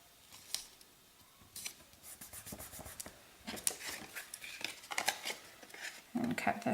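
Scissors cutting card-making paper, several short crisp snips scattered among quieter rustling and handling noises, close and fairly soft.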